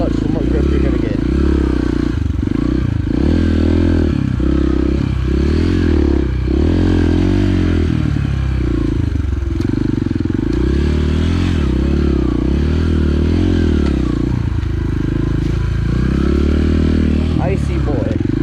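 An enduro motorcycle held in second gear on the clutch, engine droning loud and steady with rising and falling revs, under a rider's spoken commentary.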